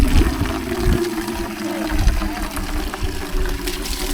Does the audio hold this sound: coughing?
no